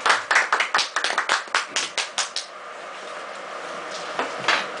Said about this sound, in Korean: 이거는 박수로 좀